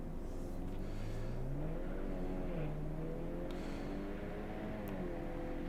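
Race car launching off the line on a track day, engine revving and rising in pitch through the gears as it pulls away, loud and steady with no talk.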